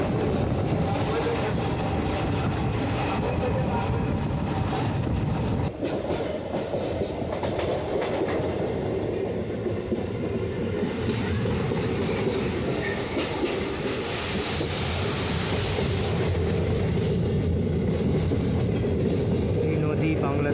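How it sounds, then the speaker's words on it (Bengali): Kanchenjunga Express sleeper-class coach pulling out of the station on the New Jalpaiguri to Sealdah run: a steady loud rumble with wheel clatter and rattling carriage noise, faint talk underneath, brightening hiss near the end. "আমাদের ট্রেন এখন স্টেশন ছেড়ে বেরিয়ে যাচ্ছে।"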